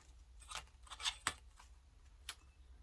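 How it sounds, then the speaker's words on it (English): Paper being cut with scissors, heard as a few quiet snips and crisp blade closures spread irregularly over a low background hum. "So what I want to do is, I want to cut this out"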